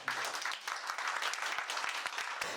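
An audience at a tooling program completion ceremony claps for a few seconds, a dense patter of many hands at moderate level with no talking.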